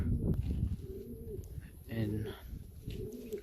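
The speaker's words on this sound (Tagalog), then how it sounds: "that's a big flock of young bird flying right now" A large flock of young pigeons, forty or more birds, flying overhead while soft pigeon cooing repeats nearby, with a person talking over it.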